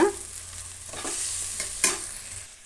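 Chili powder and garam masala frying together with bitter gourd in a pan: a soft continuous sizzle broken by a few quick stirring scrapes, close and moderately quiet.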